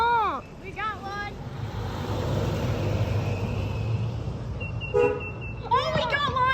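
A passing car honks its horn twice, short nearby toots on a street, amid excited children's voices and road noise.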